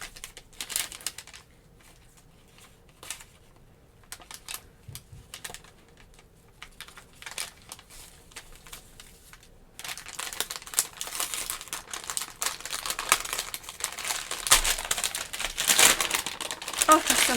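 Crinkly gift wrapping paper handled and unfolded, crackling and rustling in bursts that grow louder and denser in the second half, close and fairly busy.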